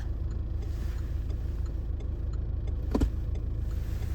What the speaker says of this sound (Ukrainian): Зараз відпущу гальма і машина поїде вперед.